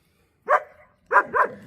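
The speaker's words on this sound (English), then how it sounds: "Hey, why are you barking?" A dog named Limpy barks three times nearby, one bark and then a quick pair, sharp and moderately loud with no talk over them.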